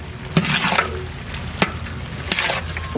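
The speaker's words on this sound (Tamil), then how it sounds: "இது கூட புதினா கொத்தமல்லியை சேர்த்துக்கலாம் இப்போ நல்லா கிண்டி விட்டுக்கலாம்" Onions and tomatoes fry with mint and coriander in a pan, a loud continuous sizzle broken by three sharp scrapes of a spoon stirring, close and without talk.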